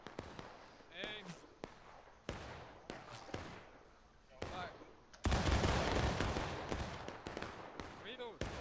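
Musket volleys crack out in War of Rights, a Civil War-era battle game: sharp, loud gunshots scattered across the scene, with a dense burst of massed fire near the end and spoken commands between shots.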